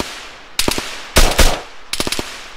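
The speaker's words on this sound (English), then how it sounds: "Got gunfire." Automatic gunfire in the combat video game ARMA 3, three loud close bursts of rapid shots in quick succession with short gaps between them.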